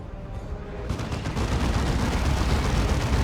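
Heavy gunfire rattles in the Warhammer 40,000: Dawn of War 2 video game, where a Crusader fires Hurricane Bolters. A dense, loud fusillade of rapid shots swells after the first second and keeps going without a break.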